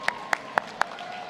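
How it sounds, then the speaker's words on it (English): A few isolated hand claps from a banquet audience at the 123rd Ligue Henri IV dinner, four sharp evenly spaced claps, fairly close and alone, with a faint steady tone beneath. "Sous vos applaudissements."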